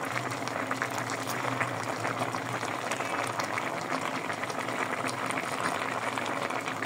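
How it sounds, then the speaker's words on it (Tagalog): Tilapia sinampalukan soup with mustard greens boils steadily in a pot, a continuous close bubbling and simmering texture with no talk over it. "oh, kumukulo-kulo pa, oh"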